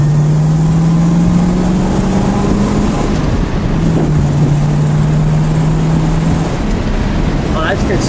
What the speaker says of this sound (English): Let's get a little acceleration.